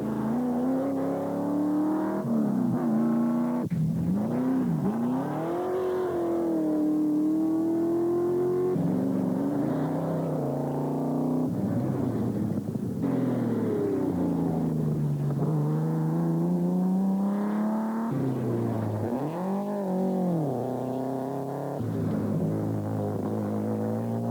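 Rally cars on a Targa tarmac rally stage accelerating hard, engines rising and falling through repeated gear changes, loud and close with a steady revving drone and no voices.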